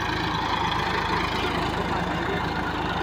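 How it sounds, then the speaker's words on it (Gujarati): Tractor engine idling nearby on a farm, a steady low rumbling drone with a faint regular knock and no change in pace. "જીગો ભાઈ આવ્યા છે ટ્રેક્ટર લઈ"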